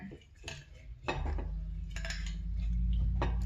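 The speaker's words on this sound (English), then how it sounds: "let me stir it" A utensil stirs salad in a bowl, making a few sharp clinks and scrapes against the bowl over a rising low hum, with no talking.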